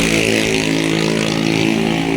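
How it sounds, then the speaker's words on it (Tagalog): Motor vehicle engine running close by, a loud continuous droning hum with a steady low tone, heard alone without talk. "Ingay ng motor."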